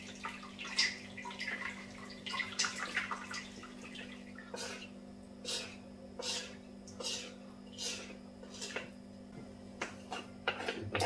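Habanero chilli cherry tomato sauce draining through a strainer: quiet, irregular drips and short trickles over a steady low hum, with faint voices in the background.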